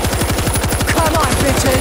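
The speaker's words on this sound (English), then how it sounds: "Machine gun." Machine gun fire rattles in World War Z, a fast, steady burst of evenly spaced shots running unbroken and loud up close, with faint game noises behind it.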